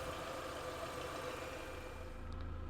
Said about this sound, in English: This is a 2 litre engine and this is a 1J model. As you can hear, it's quite smooth.